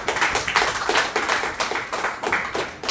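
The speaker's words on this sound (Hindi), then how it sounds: "ताली होना चाहिए।" Audience clapping at a business plan presentation, a crowd of hands beating in a loose rhythmic patter that swells and dips for a few seconds, no talk over it.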